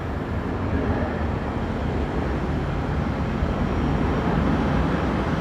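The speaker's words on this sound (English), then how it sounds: "that's velocity 1224 heading off to Canberra tonight, the 737-800. Another intersection departure" A Virgin Australia Boeing 737-800 jet on an intersection departure at night from Brisbane Airport, a loud continuous broadband engine roar that holds steady throughout.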